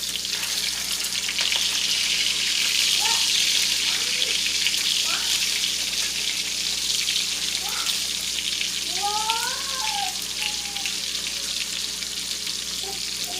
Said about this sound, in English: fry on each side for 2 minutes until golden brown